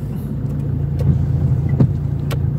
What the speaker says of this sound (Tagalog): Ay, traffic.